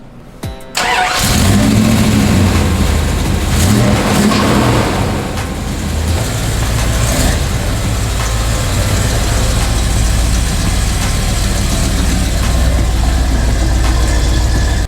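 An off-road vehicle's engine, switched from EFI back to a carburetor, cranks and catches, then runs loud and close at a rough, steady idle with slight revving swells, no talking.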